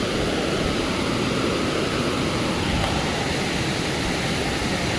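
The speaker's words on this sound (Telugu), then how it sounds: "ఏమన్నా వాటర్ ఫాల్స్ డేంజర్గా ఉంది, ఫ్లో మాత్రం." Water pours over Devkund waterfall in Maharashtra in a heavy, steady roar, broad and unbroken throughout, with no talk.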